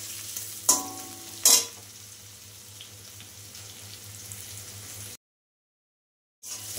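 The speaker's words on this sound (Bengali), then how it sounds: "পেঁয়াজটা তো একটু নেড়ে নিলাম," Onions with garlic frying in a pan for an ol (elephant foot yam) stalk dish, a steady close sizzle with two sharp stirring clatters early, then a brief silence before the sizzle returns.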